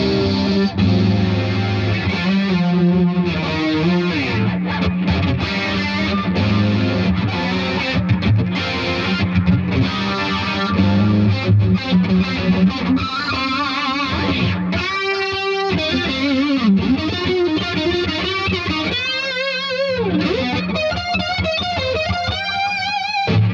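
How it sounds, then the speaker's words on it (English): A Nash S-63 Strat-style electric guitar runs through Wampler Pinnacle distortion, Tortuga Martini chorus and DMB Lunar echo pedals, playing loud, sustained driven chords and lead lines with shimmering, repeating tails, continuous and alone. "Joe's got a Wampler Pinnacle Distortion, a Tortuga Martini Chorus, and a DMB Lunar Echo hooked up to put the S-63 through the effects test."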